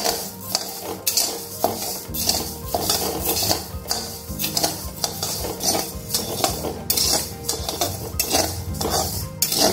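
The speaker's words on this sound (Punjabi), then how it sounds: "ਹੁਣ ਇਹਨੂੰ ਆਪਾਂ ਕੜਾਹੀ ਦੇ ਵਿੱਚ ਪਾ ਕੇ ਅਤੇ ਇਹਨੂੰ ਭੁੰਨ ਲਾਂਗੇ।" Whole wheat grains dry-roasting in a kadhai without ghee make a busy, loud rattling and scraping as they are stirred repeatedly with a metal spatula, with grains clinking against the metal and no talking.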